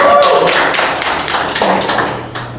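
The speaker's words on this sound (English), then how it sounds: "Yeah, a round of applause for Anita." Audience clapping at a candidate question-and-answer event, a short burst of hand claps and taps that starts loud and close, then thins out and fades over a couple of seconds.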